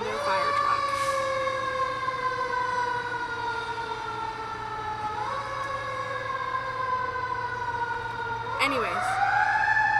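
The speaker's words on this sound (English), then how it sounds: "City of Orlando fire truck." City of Orlando fire truck siren wailing loudly as the truck passes, rising and falling steadily over constant traffic noise for the full stretch.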